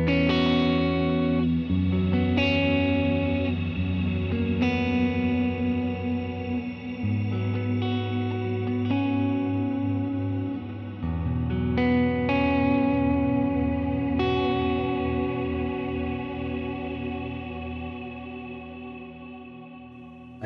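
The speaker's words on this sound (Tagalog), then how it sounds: "Ayun, yun yung mga reverb." An electric guitar played through reverb effects on a Zoom G6 multi-effects pedal rings out in sustained, washy chords with long echoing tails, several strummed changes over about twenty seconds with no talking.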